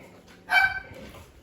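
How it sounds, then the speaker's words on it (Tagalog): A dog gives a single short, sharp bark at moderate distance, with quiet background before and after. "May aso na rin."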